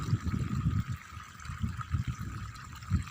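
Water from a bore well pump pours and trickles into the earthen basin around a lemon tree on a farm, a soft uneven splashing with gentle surges, fairly quiet and without speech.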